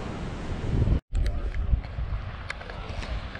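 Ocean waves wash onto a desert beach among rocks in Paracas, Peru, a broad continuous surf roar with heavy wind buffeting the microphone and a brief dropout near the start.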